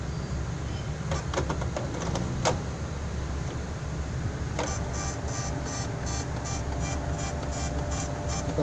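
Mechanical whirring with a burst of clicks and ratcheting, then a steady run of evenly spaced pulses as a Canon inkjet printer's carriage moves back and forth, fairly close.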